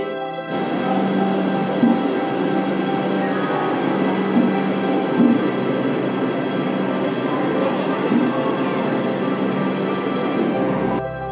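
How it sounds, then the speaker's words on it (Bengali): A train pulls out of Howrah station, giving a steady rumbling drone with faint clanks and squeals, continuous and moderately loud with no speech. "তো তোমরা দেখতেই পাচ্ছ ট্রেনটাও ছেড়ে দিয়েছে"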